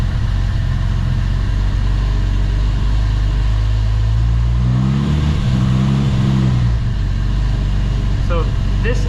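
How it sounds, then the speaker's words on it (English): An idling car engine fitted with a Holley Pro Dash rumbles steadily, then briefly revs up and settles back, with a low continuous drone throughout. "Rev it up a little bit, you can see."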